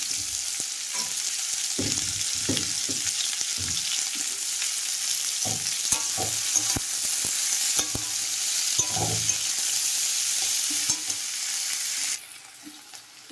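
Onions sizzle and fry in a pan for mutton curry, a constant hiss broken by scraping and stirring clatter, heard up close without talk.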